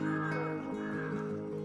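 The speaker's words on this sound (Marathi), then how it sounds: "किती पक्ष्यांचा वगैरे आवाज येतोय बघ" Crows cawing over a steady outdoor background at sunset in a village near a creek in Vasai, their harsh calls fairly close and repeated through the short stretch.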